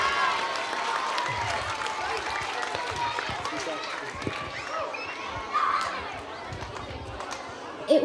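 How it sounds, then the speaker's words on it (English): School assembly applause for three students, a dense, sustained wash of many hands clapping in a large hall, fairly even in loudness with a few thumps and murmurs mixed in. "So a big round of applause."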